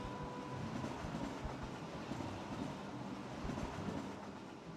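A passing train in Kingdom Hearts 2, a steady rumbling rail noise with a faint clatter, distant and quiet, with no voices.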